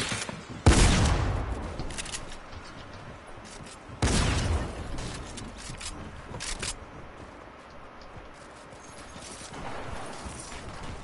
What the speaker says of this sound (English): I'm getting shot at from like two sides